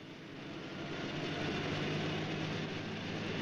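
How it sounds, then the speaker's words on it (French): An AMX-30 tank's 720-horsepower multi-fuel engine gives a low, continuous rumble that swells slightly in the first second, then holds steady and moderately loud, with no speech. "La MX-30 est équipée d'un moteur polycarburant qui développe une puissance de 720 chevaux."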